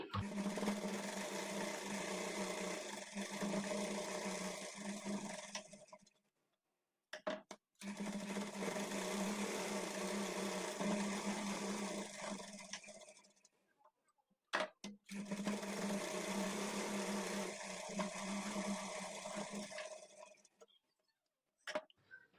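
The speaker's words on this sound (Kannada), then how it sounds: "ಈಗ ಇಲ್ಲಿ ನಾನು ಒಂದು ಮೂರು ಸ್ಟಿಚ್ ಹಾಕಿ ತೋರಿಸ್ತೀನಿ" A sewing machine stitches the side seam of a blouse in three long, steady runs of rapid mechanical chatter, each followed by a short silence, heard close and fairly quiet.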